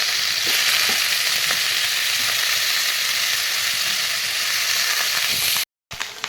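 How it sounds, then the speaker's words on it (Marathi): Paneer and cauliflower frying in hot oil for veg pulao, a steady loud sizzle with faint crackles and stirring, briefly cut to silence near the end before resuming. "चला आपण आता गोबी आणि पनीर तळून घेऊया। पनीरला फ्राय करून घेऊ आणि गोबीला पण।"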